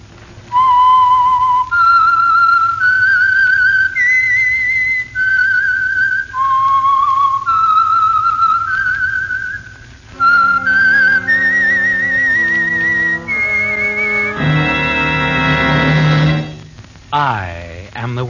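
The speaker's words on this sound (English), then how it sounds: "the signal to listen for is this whistle that identifies the Signal Oil program" A lone whistler carries a rising melody, the theme of the Signal Oil radio program The Whistler, followed by a brief orchestral swell and a final whistled phrase.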